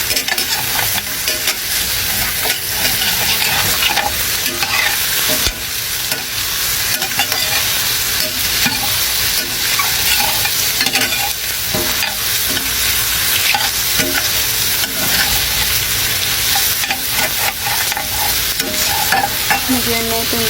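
Hotdog being stirred and fried with rice in a pan, a continuous loud sizzle under repeated scraping and clattering of the utensil against the pan, close and busy for the whole stretch without talk.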